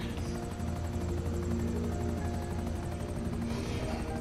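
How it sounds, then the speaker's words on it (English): A helicopter in a GTA 5 multiplayer match drones steadily throughout, its rotor thump and engine hum staying loud and continuous with no talk over it. "He came in so hot with that freaking helicopter"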